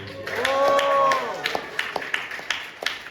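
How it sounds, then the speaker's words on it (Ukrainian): Audience at a live comedy show in Kharkiv, a voice calling out at the start, then sparse, distinct claps from a small crowd. "оплески."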